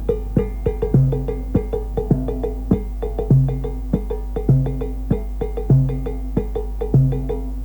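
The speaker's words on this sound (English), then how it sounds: "So a typical timbale rhythm would sound like this." Sharp stick clicks and rim hits on timbales in a repeating pattern, with resonant high and low drum strokes recurring in a steady, looping rhythm.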